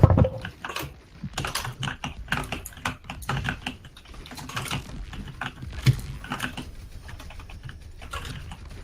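Rapid, uneven clicking of computer keys runs throughout, close and fairly loud, with bursts of quick keystrokes and short pauses between, during an Overwatch team scrim on the Ilios map.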